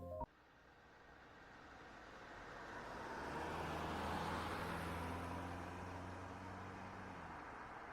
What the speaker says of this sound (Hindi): और दोनों कार लेके निकल पड़ते हैं मुकेश के गांव